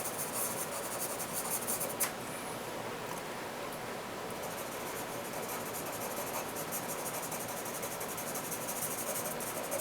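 A pencil scribbles across paper in fast, continuous strokes while drawing a marbled floor texture, a soft, steady scratchy rasp close to the ear with faint background hiss.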